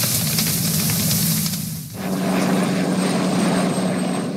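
A loud, steady helicopter drone with a low rotor hum and airy hiss, briefly dipping midway before continuing.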